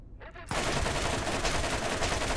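Heavy automatic gunfire from a weapon with strong recoil in the video game Borderlands, a loud sustained burst of rapid shots that starts abruptly after a brief quiet moment and carries on to the end.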